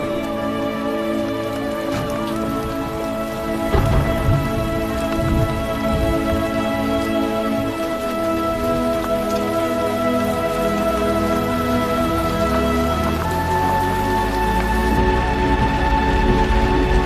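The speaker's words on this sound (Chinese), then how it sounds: "下雨了" Rain patters steadily on surfaces with scattered drops, heard beneath sustained tonal music in a drama scene, continuous and fairly close without talking.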